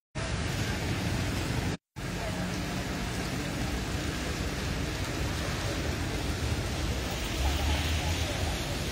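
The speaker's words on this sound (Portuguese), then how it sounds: "A chuva engrossou mais um pouquinho, ó lá," Steady, dense rainfall hisses continuously, heavy and close, in Macaúbas, Bahia, Brazil, with a brief dropout near the start and no speech.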